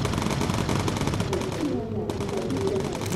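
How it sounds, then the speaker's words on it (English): Light anti-aircraft flak fire in the bomber video game Bomber Crew: dense, continuous crackling bursts of game gunfire and explosions, loud and steady over an engine drone, with a brief dip partway through. "taking some light flak fire."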